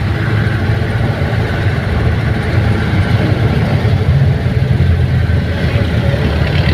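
Motorcycle engines idle continuously at a street parade in the Philippines, a loud, dense low rumble that holds steady throughout with no clear talking.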